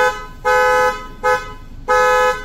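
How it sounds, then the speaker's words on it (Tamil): A new Fiamm car horn on a Maruti Ertiga honks three times in a short irregular pattern, loud and close, with a bright multi-tone blare and brief gaps between blasts. "ஸோ ஃபியாமில் ஹாரன் சேஞ்ச் பண்ணியாச்சு."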